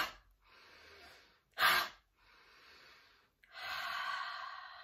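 Several slow, deep breaths are drawn in and let out close to the mic, with one sharp gasping inhale in the middle and a long exhale at the end, and no talking.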